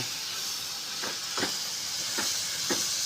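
Paneer being stirred with a spoon in a kadai while making paneer curry, a steady hiss of cooking underneath with four soft scraping strokes of the spoon spaced about a second apart.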